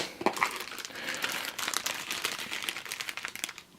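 Plastic storage bags being handled while a Time of Crisis board game is unboxed: close, busy crinkling and rustling that keeps going in irregular bursts for several seconds.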